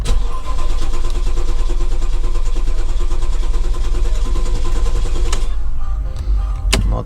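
A Porsche Cayenne S 958 with a 4.8L engine, being repaired after fuel rail removal, cranks and catches into a loud, steady running roar close by for several seconds before cutting off sharply near the end.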